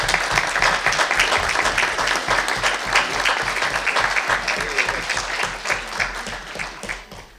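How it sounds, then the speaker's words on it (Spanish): An audience at a conference talk applauds speaker Matías, with loud, dense clapping sustained for several seconds. The clapping has a rhythmic, pulsing texture and trails off slightly at the close. "primero un aplauso para Matías por..."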